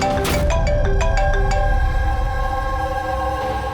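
A phone ringtone plays loudly and continuously: a bright, tonal melody with a few sharp note onsets at the start, then held, ringing tones.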